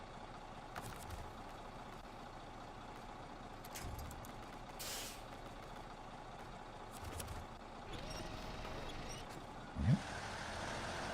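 A heavy logging truck in the SnowRunner video game rumbles along at low level, with a sharp burst of air-like hiss midway and a short clunk near the end, no speech.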